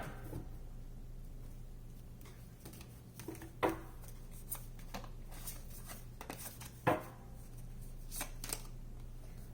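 Two crisp riffle-style tarot card shuffles, each a brief flutter of snapping cards, stand out over a quiet room with a low steady hum.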